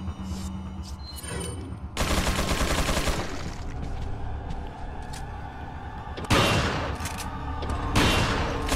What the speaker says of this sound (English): I'll just change to my shotgun.